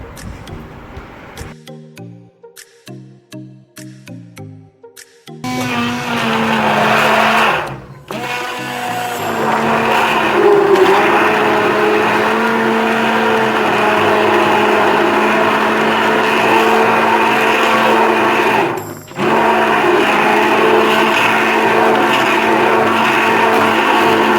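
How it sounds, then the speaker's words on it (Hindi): An electric blender whirs to blend fruits for homemade ice cream, starting with a few short pulsed bursts, then settling into a loud, steady grinding drone that briefly stops twice before running on. "फिर इसके बाद आपने इसको इतना ब्लेंड करना है कि ये सब कुछ इसमें स्मूथली ब्लेंड हो जाए"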